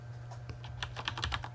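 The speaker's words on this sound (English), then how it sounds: "So whatever we want to type here, Orla." Keys on a computer keyboard are tapped in a quick, uneven run of clicks, close and fairly soft over a steady low hum, with no voices.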